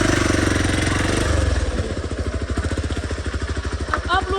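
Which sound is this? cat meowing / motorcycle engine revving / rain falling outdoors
motorcycle engine revving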